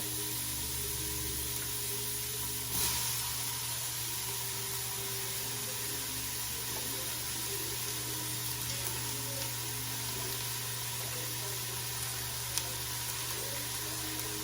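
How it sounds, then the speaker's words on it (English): Onions and peppers sizzle steadily in a hot Instant Pot with ground meat, a continuous even hiss holding at moderate level throughout with a low steady hum underneath. "And I'm going to put the onions and peppers in right away."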